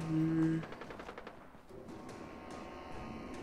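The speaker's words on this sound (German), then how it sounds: "Ich mag das ja gar nicht, wenn ich hier Schüsse höre." Gunfire in the video game Fallout 4: a rapid burst of automatic shots rattles off in quick succession, followed by scattered sharper distant cracks over a low ambient rumble, with no one talking.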